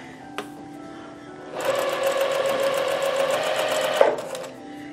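A sewing machine stitches bias-cut fabric over piping cord in one steady, close burst of rapid mechanical whirring lasting a couple of seconds, with a faint click before it starts.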